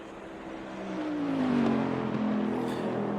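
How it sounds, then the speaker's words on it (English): Race car in Assetto Corsa Competizione passing the pits, its engine note rising and then falling in pitch as it goes by, moderately loud and alone. "you can hear a car come screaming down here, and you can hear the sound transfer from one side to the other as the car goes by"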